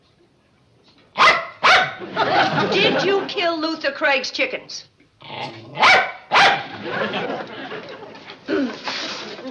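A dog barks and growls on a sitcom courtroom set, with sharp barks near the start and again midway, mixed with someone speaking and a grumbling, voiced growl between the barks.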